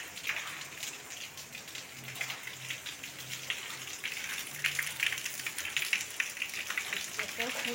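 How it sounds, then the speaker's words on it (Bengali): Heavy rain falling steadily, a dense pattering wash with scattered louder drops on nearby surfaces, continuous and fairly close throughout. "জমজম করে বৃষ্টি"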